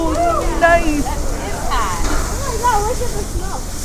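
A fish boil boils over at Pelletier's Restaurant in Door County, Wisconsin, a steady outdoor hiss and rush of steam and flame surging close by while spectators exclaim and talk over it.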